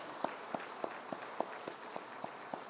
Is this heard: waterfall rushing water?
no